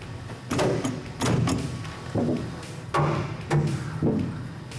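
A series of sharp hammer knocks driving studs into a hollow panel of a Plymouth Road Runner, spaced irregularly, each ringing briefly, close by.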